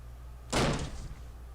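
A stuck door that won't open is forced: one heavy thud and rattle, close and sudden against a quiet room, then fading quickly.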